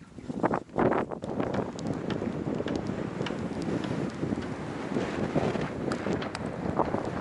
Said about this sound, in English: Cover the camera as much as I can from the wind.